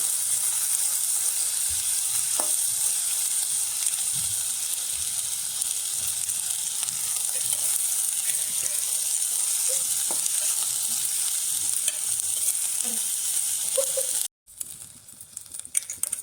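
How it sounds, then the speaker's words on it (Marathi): Rice roasting in ghee in a pan for coconut rice, a steady bright sizzle throughout with occasional soft stirring scrapes, close and continuous, cutting out briefly near the end. "तांदूळ आता आपण तुपावर छान परतवून घेऊ"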